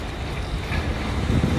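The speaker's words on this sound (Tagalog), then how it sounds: "At mahangin." Wind gusts buffet the microphone outdoors near a cathedral and bridge, a dense, low rumbling rush that swells slightly, close and loud, with no talk.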